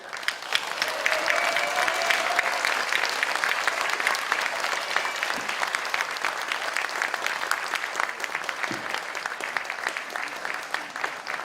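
A crowd claps at a party launch ceremony, sustained dense applause that holds steady throughout, with faint voices and a few cheers mixed into the clatter.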